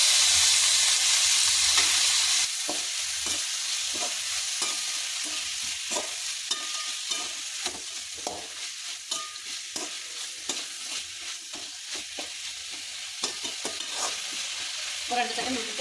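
Small cut chicken pieces for Pallipalayam chicken fry in a pan with a steady sizzle, broken by frequent stirring scrapes and clicks at close range, and there is no talking.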